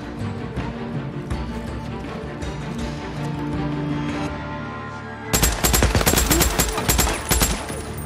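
Gunfire from a zombie horde shooter game starts under a low background bed of music, then bursts into rapid, loud automatic shots in the second half.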